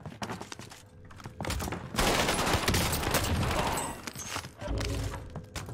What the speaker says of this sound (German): Ich habe meinen Freund über den Haufen geschossen.